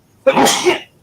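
A single sharp sneeze bursts out close by, loud and lasting under a second, in a room with people nearby.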